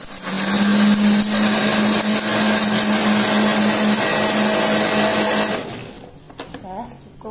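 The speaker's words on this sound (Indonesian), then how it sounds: "Terus sini ada lada atau sahang, kita blender." An electric blender grinds dried shrimp and pepper with water, a loud steady whirring motor running for several seconds before cutting off, followed by a few faint clatters.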